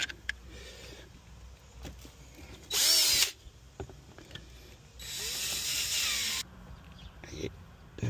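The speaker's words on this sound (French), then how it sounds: "je suis obligé d'agrandir un peu le trou avec une perceuse" A power drill enlarges a hole during installation of Hansshow V6 car door handles, running in two loud bursts, one short and one several seconds long, with quieter handling noises and clicks between them.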